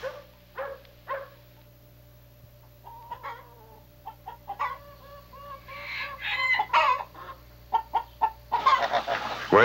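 Hens cluck in short bursts, with a few louder squawks and calls toward the end over steady low background noise.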